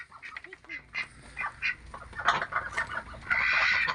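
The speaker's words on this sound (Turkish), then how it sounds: "Köy Türken tavukları köy ördekleri." Chickens cluck and Pekin and village ducks quack together nearby in a Turkish village farmyard, overlapping calls from several birds with no one talking.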